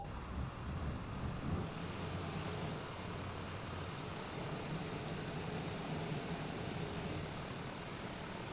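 Aircraft engines idle in Microsoft Flight Simulator 2020 while the plane sits parked, a steady, even hum with a faint whine, continuous and moderately quiet for the whole stretch, with no voices.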